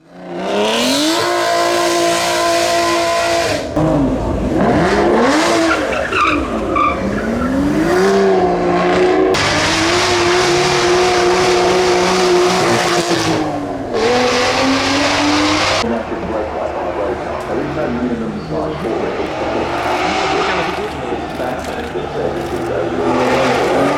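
A 2018 Aston Martin V600 Vantage climbs the Festival of Speed hill course, its engine roaring loudly and continuously, revving hard through gear changes with rising and falling pitch and occasional tyre squeal.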